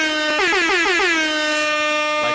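A loud, blaring air horn blasts in a rapid stuttering series, then holds one long sustained note before a final short honk.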